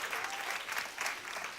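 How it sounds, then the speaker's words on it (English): An audience at an event gives a brief round of applause, a dense, steady wash of many hands clapping that carries through the whole short moment without letting up. "Let's give him a round of applause"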